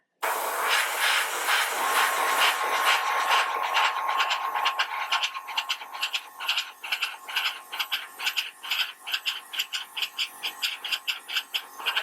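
Airbrush spraying paint in small built-up sections, a steady bright hiss that turns into rapid sputtering pulses as the paint cup runs empty, close and alone with no talking.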